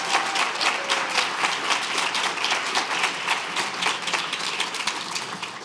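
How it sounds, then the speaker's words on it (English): An audience applauds at the grand opening of the Klarman Building at BIDMC, a medical center. The clapping is dense and sustained at an even loudness throughout. "Now that's worth clapping for."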